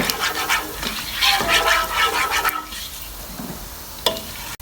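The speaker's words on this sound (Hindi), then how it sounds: "सौंफ डाल के भी सौंफ को थोड़ा सा फ्राई कर लेंगे।" Fennel seeds frying in hot oil with cardamom and cloves for jaggery rice, giving a steady close sizzle with brief stirring scrapes, a quieter stretch near the end, then a sharp clink.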